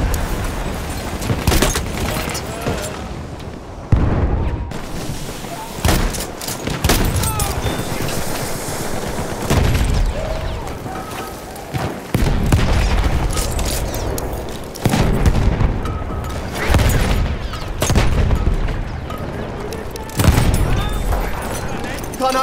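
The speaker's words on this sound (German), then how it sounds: "Granate raus. Räuchern wir die Brüder auf." Battlefield 1 combat with grenade explosions and gunfire, heavy booms and bursts of rapid shots at irregular intervals, loud and close, with voices talking over the battle.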